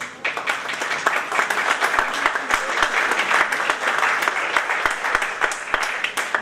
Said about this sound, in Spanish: Recibamos con fuertísimo aplauso